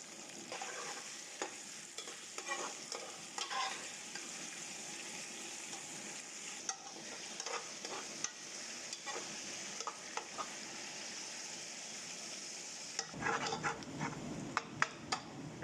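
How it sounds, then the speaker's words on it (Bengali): Onions sautéing in hot oil with star anise for Qatari majboos rice, a steady sizzle throughout with repeated stirring scrapes and a few clinks, close and continuous, briefly disturbed near the end. "তেলটা ভালো মতো গরম হয়ে গেছে এখন আমরা পেঁয়াজ দিয়ে দেব পেঁয়াজটাকে ভালো মতো সতে করতে হবে"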